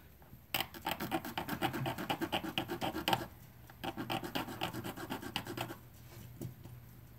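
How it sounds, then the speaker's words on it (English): Rhythmic rasping strokes of a file on metal, a fast run of scrapes, a short pause, then another burst of filing, close up. "I'm just going to knock it down with a file."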